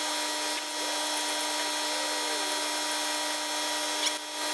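Power tool running a lug nut up onto a brake rotor during a disc brake conversion on a 1954-1971 Dodge D100 pickup, a steady high whirring hum held throughout, close and alone.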